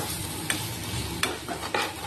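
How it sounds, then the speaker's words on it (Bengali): Onion stalks fry in a pan with a continuous close sizzle, broken by three sharp scrapes or clicks of a utensil stirring against the metal. "সব কিন্তু ভেজে নেব দেখতেই পাচ্ছ পেঁয়াজ কালি ভাজা"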